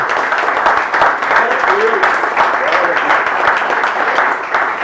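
Loud, sustained audience clapping at a live church program for two pastors, a continuous dense patter with voices talking over it throughout.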